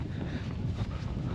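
Strong coastal wind at Sugarloaf Rock buffets the microphone in a continuous low rumble, steady and close with no other sounds standing out.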